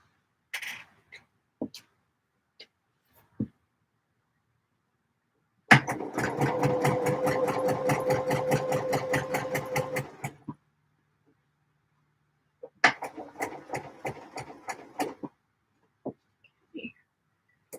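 A sewing machine stitches a D&G shirt in one fast, steady run of about four seconds, each stitch a rapid even tick, with scattered soft clicks and handling taps before and after.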